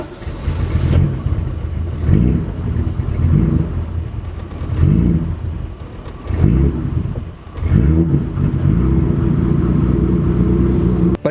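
A BMW E28 engine struggling to idle after sitting abandoned, revving up and sagging in repeated uneven surges over several seconds, close and loud with no talk.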